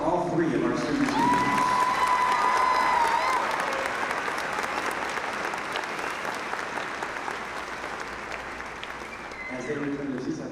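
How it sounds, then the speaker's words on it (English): Sustained audience applause fills a large hall at a Spring Lake Park high school graduation ceremony for the class of 2024, honoring student speakers; dense, even clapping continues for about ten seconds and tapers slightly near the end. "Please give one more round of applause for all three of our student speakers."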